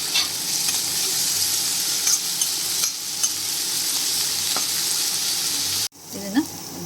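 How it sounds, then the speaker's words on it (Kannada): Fenugreek leaves and green peas sizzle loudly in a hot pan as a spoon stirs them, with a steady frying hiss and occasional scrapes, then a brief break and a clatter near the end, with no talking. "ಮೆಂತ್ಯ ಸೊಪ್ಪು ಹಾಕಿದ್ರೆ 1 ನಿಮಿಷಗಳ ಕಾಲ ಇದು ಸಹ ಫ್ರೈ ಮಾಡ್ಕೋಬೇಕು"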